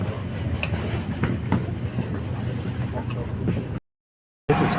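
Rumble and rattle of a packed passenger train on a ride toward Copenhagen, a steady low drone with faint clicks and a brief cut near the end.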